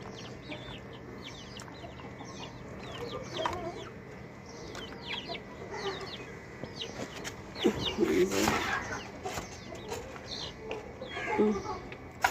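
Desi country chickens cluck softly and repeatedly while pecking at their feed, with scattered chirps and a few louder squawks, moderately near over a quiet farmyard background, with no talking.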